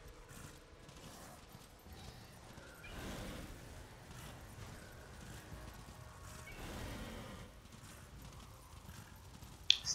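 Hooves of a horse in the video game Darksiders clip-clop at a walking pace, soft and somewhat distant, with a faint mechanical click at the very end.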